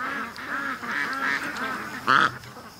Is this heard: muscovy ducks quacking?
yes